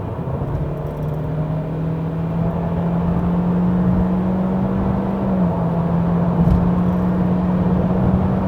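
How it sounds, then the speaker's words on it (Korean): Honda Accord Turbo with a CVT pulling hard on a highway, a steady droning engine tone holding nearly constant pitch under a loud continuous road rumble, dipping slightly just past midway, with no talking. "가속 페달 꾹."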